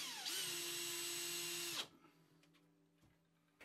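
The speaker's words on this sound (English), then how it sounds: "press it down with your hands and drive a couple of screws in the top and bottom" Power drill driving screws through a wood slat wall panel, a close, loud whirring burst of about a second and a half that stops abruptly, followed by a quiet room and a faint tap.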